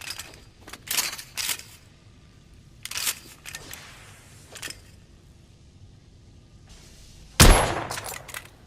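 A rifle fitted with a telescopic sight fires in the game The Order 1886, with one sharp, loud shot near the end that follows a few quieter clicks and rustles of handling.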